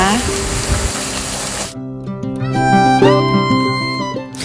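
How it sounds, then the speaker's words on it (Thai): Pork belly sizzles as it stir-fries with red curry paste in coconut oil, a loud hissing fry that suddenly gives way to clanking and scraping while someone talks over the cooking. "ตามด้วยหมู 3 ชั้นครึ่งกิโล ผัดกับพริกแกงทำให้หมูสุกนะคะ"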